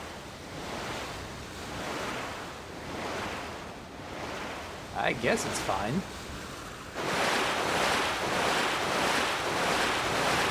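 Loud, surging water splashing in the video game Rune Factory: Tides of Destiny, rising and falling in rhythmic waves, briefly softer while a person speaks, then swelling louder again toward the end.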